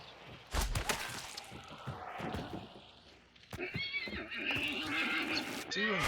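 A horse whinnies in the Hunt: Showdown video game, a loud drawn-out neigh partway through, following scattered clatter and gunfire-like thumps, with game ambience continuing around it.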